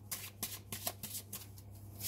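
Tarot cards riffle and flick in quick bursts during a reading, a soft, close papery shuffling with short pauses, fairly quiet and with no talking.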